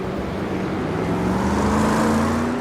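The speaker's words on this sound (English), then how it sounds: "Pace car drives right through him." A pace car in the iRacing sim driving past during a Silver Crown race at Five Flags Speedway, a steady engine drone with a rising tone that swells slightly as it passes, over constant loud background noise.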